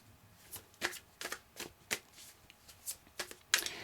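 Deck of tarot cards being shuffled close by, with about a dozen short, crisp riffling bursts at an uneven rhythm, quiet and heard alone.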